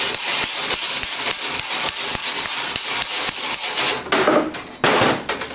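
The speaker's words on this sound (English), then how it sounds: "hammer on top, just like that. You flatten it back out." Hand hammer flattening sheet metal on a dolly from the back side, with a loud, steady run of sharp, evenly spaced metallic blows, a faint ringing tone under them, then a few looser knocks at the end.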